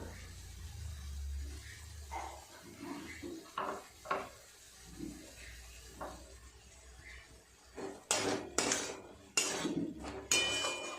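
A metal spatula presses and mashes a thick mixture of boiled ingredients in a cooking pot, producing scattered scraping and clinking knocks, sparse early on and louder, denser clatter near the end, with no talking.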